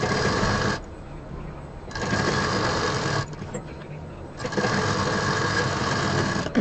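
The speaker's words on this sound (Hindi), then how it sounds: "यहाँ पर डबल मशीन चलाएंगे, 15 इंच को सिलते हुए इस 10 इंच को सिल देंगे।" A sewing machine double-stitches 15-inch and 10-inch fabric seams to make a bag, its loud, close, steady whirring running in long bursts broken by short pauses.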